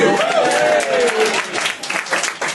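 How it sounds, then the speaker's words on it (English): A comedy club audience breaks into loud, close applause and cheering on a new comedy night, with dense clapping and a brief whoop early on, tapering a little toward the end. "Round of applause for the mic stand."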